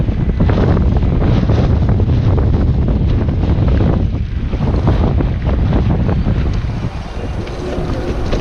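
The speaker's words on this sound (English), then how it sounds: "And we're in the wind again." Wind roars steadily into the microphone while cycling, a loud, dense buffeting rumble that persists throughout with only slight dips in strength.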